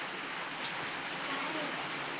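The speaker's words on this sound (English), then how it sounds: "now we're sitting out the front because it's pouring down with rain." Heavy rain pouring down at Jurien Bay, a dense continuous hiss of falling water heard from a sheltered front area, steady and fairly close.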